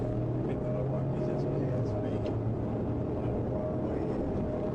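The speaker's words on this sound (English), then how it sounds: "Did you hear that V8, y'all?" A BMW M5 V8 drones steadily through a police pursuit, a continuous loud engine note with a strong low hum running throughout, heard from a distance with a slight rise in pitch.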